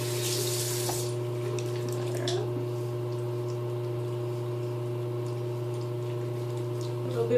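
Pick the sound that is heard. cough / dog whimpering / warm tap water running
warm tap water running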